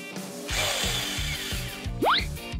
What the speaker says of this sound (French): On scie, on visse.